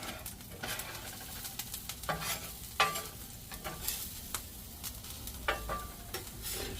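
Bologna and onions fry in a cast iron skillet, a steady close sizzle broken by repeated scrapes and clacks of a utensil turning the meat, with a brief voice at one point.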